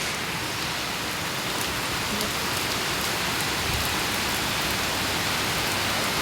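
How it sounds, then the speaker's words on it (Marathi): Heavy monsoon rain pours down in a dense, unbroken hiss, drumming steadily on surfaces with no pauses, amid strong wind and lightning. "एवढा पाऊस चालू आहे"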